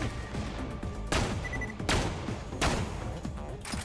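Heavy cannon fire in the shooter game Borderlands: The Pre-Sequel, a busy barrage of gunfire with three loud booming blasts roughly a second apart standing out over the constant din.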